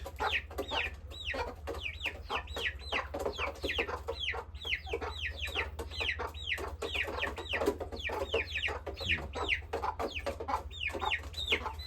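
A flock of chickens clucks continuously at close range, with many overlapping rapid clucks over a steady low rumble of background noise.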